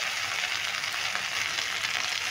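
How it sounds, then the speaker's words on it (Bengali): Mashed pointed gourd bhorta fries in hot oil in a wok, giving a steady, dense sizzle that stays close and even throughout with no voices. "এবার আমি এই ভর্তাটা কড়াইয়ে তেলে দিয়ে দিচ্ছি।"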